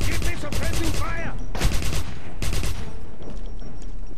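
Bursts of automatic gunfire from a World War shooter game, loud rapid volleys in several clusters with pauses between, mixed with game effects and voices.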